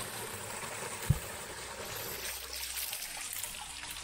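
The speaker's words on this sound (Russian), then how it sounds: "Вот здесь холодный родник." Cold mountain spring water trickles steadily in a Dagestan mountain village, a soft continuous wash of flowing water with one brief low thump near the start.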